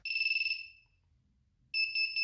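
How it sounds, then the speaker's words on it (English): A simple drone finder buzzer gives a shrill, loud electronic beep, then falls silent for about a second before beeping again. "I'm going to measure the volume of this simple buzzer"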